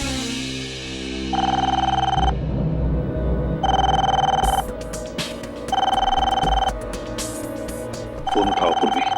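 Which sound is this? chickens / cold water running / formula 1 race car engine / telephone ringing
telephone ringing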